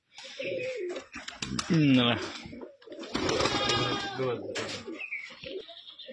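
Rajshahi Giribaz pigeons, a matched male and female pair, coo in low repeated throaty bursts close by, mixed with people talking over and between the calls.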